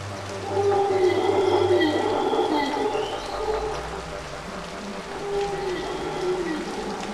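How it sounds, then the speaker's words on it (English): Howler monkeys calling in the Amazon rainforest, a drawn-out, resonant moaning roar that rises and falls at a distance over a dense hiss of rain or forest ambience, with no one speaking. "Howler monkeys shout so loud that their calls might be mistaken for the thunder of the approaching torment."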